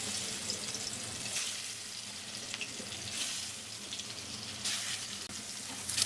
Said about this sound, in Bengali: লাল লাল করে ভেজে নেবো মাছগুলো